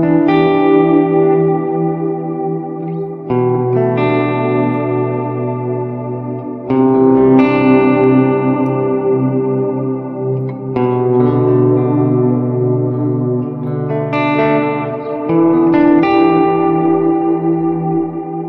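An electric guitar played through the reverb setting of a Mvave BlackBox effects unit, sustained distorted chords ringing out with a long ambient tail, a new chord struck every few seconds, loud and with no voice.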